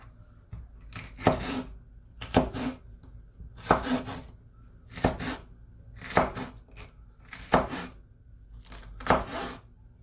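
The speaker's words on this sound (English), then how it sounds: "Now I'm going to cut this in slices." A knife slices food on a cutting board while making cowboy candy, six separate bursts of cutting spaced about a second apart, close and clear, with no talk.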